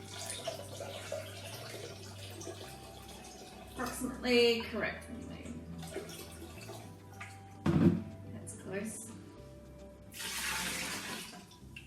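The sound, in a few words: water being poured into sugar for lemon squash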